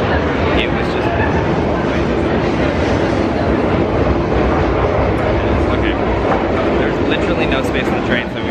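A crowded train rumbles past with continuous clattering and rolling noise, close and loud, while people talk over it.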